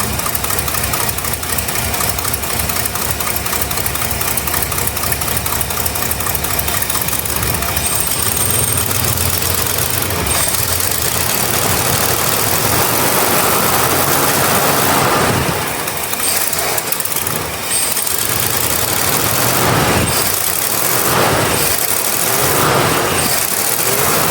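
A 1966 Ford Galaxie's 390 FE V8 with a four-barrel carburetor idles unevenly up close, its rumble stumbling and pulsing irregularly from a misfire, steady throughout with no talk.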